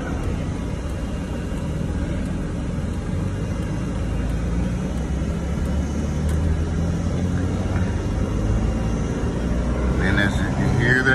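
A shaking car that needs repair drives along with a steady, loud engine drone and road rumble, its pitch slowly climbing as the revs rise. A voice talks over it.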